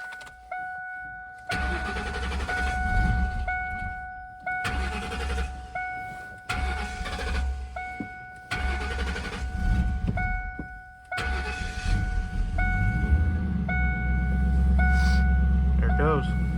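Ford Mustang engine cranking and starting, several repeated starter bursts broken by short gaps before it catches and settles into a low running rumble; a steady tonal whine sits in the background and voices are heard.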